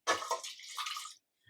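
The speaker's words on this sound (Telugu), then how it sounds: "ఈ గ్లాస్ వాటర్ పోసుకుంటున్నా నేను" A glass of water is poured into a cooking pot while making tamarind-leaf dal, one short splashing pour lasting about a second and then a faint drip, close and quiet.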